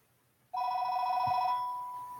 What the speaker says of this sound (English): Can someone get that, please? Sorry, it's a spam phone call.